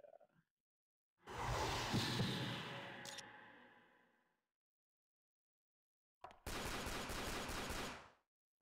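Gunfire in the video game The 3rd Birthday, with two loud bursts of rapid automatic shots separated by a silent gap, the first tailing off gradually and the second cutting off sharply.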